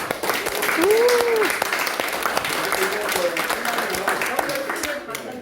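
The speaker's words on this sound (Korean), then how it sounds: "다시 한번 박수 한번" Steady applause from an audience at a book discussion lecture fills the whole stretch, a dense wash of clapping with a voice speaking over it.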